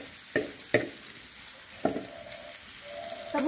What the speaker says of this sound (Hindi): साबुदाने को डालने के बाद से अच्छे से मिलाएंगे इस तरह से